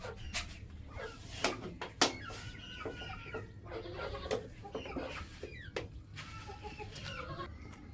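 Village chickens cluck and squawk close by while being fed rice and water. Short irregular calls overlap one another over a low steady background.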